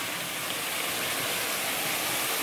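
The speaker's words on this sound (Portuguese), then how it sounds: "Tem uns 3 metros de cachoeira." A waterfall about 3 metres high at Morro do Paxixi in Mato Grosso do Sul sends out a steady, close rushing roar of falling water with no other sounds.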